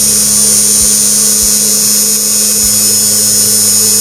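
An RS-540 6V DC motor runs under a speed controller at high speed, giving a steady, loud, continuous whine and hum with low thumps near the start and a brief shift partway through.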